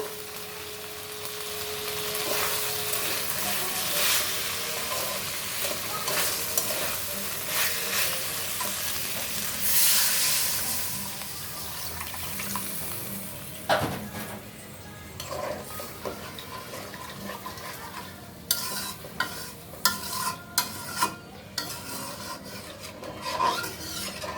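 Water poured onto a spice paste sautéed in a pan gives a bright, steady hiss and sizzle, then scraping and stirring strokes with spoon knocks take over as it settles, close and fairly loud throughout.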